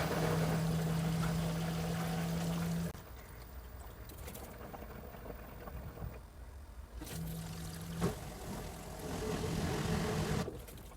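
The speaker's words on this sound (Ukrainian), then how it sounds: "За цю хвилину, яку вона прогнозує, вся вода з барабана у нас зільється" An LG washing machine drains its drum: water gushes and trickles while a pump hums on and off in steady stretches.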